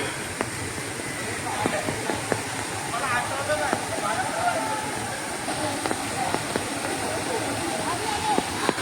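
Water flows steadily at the source of the Hiranyakeshi river in Amboli, a constant broad rush with faint clicks and knocks, while a voice talks over it.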